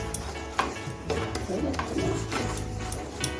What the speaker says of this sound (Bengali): আমি এখানে অনবরত নাড়তে থাকবো যতক্ষণ কালারটা বাদামি কালার না হচ্ছে